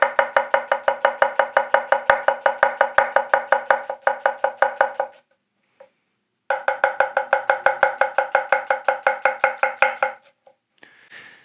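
A Hatsukokoro Kayabusa Ao Migaki bunka 180mm knife julienning onion on a board: rapid, even, crisp chopping taps in two long steady runs separated by a brief pause, close and clear, with no voices.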